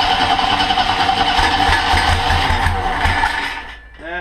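A monster trike engine runs on choke and floods after a carburetor rebuild, giving a loud, steady, rough running note that sags and dies near the end.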